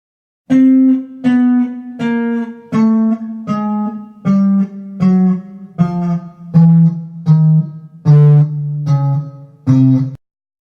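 Guitar notes step downward one by one in half-step increments, a dozen evenly paced plucks each ringing clearly before the next, no voices.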